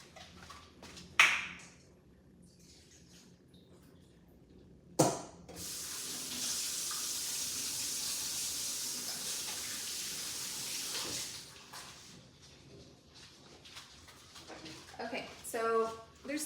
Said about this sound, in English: I am gonna go to the sink and pour out the pickle juice and wash my hands